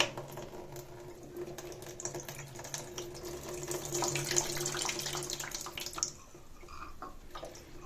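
Water is poured through an Opel Vectra heater core to flush it, giving a continuous splashing, trickling flow that swells in the middle and then drops to a quieter dribble, close by with no talking.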